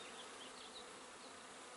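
A honeybee colony inside the wall of a small gas shed in Melrose, Idaho, gives off a steady, faint buzzing drone that holds evenly for the whole moment with no voices.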